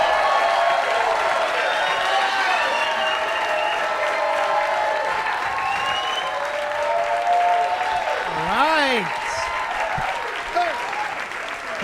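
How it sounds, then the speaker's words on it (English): A theater audience breaks into loud, sustained applause with whoops and cheers, welcoming comedian Ali Hassan to the stage at a comedy special; clapping fills the whole stretch and fades slightly near the end. "Give him a round of applause."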